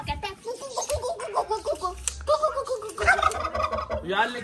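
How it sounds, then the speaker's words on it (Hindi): A turkey gobbles repeatedly at close range in rapid, rattling bursts, with a person's voice speaking intermittently alongside. "ये देखे हमारा तरकी बर्ड माशा अंदर कितना खुश है"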